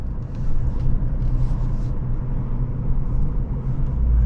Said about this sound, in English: we're just gonna engage crawl here at the lowest, slowest setting